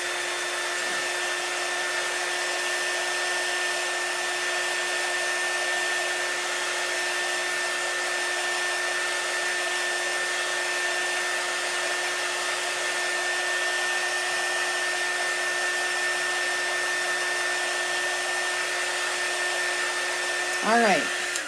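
A hair dryer blows continuously with a steady high whine, drying chalk paint on a small gnome craft indoors. It stays level throughout, with a brief clatter at the very end.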